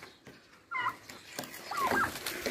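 A turkey calls up close with short, bursting clucks and gobbles, two brief outbursts against faint outdoor background.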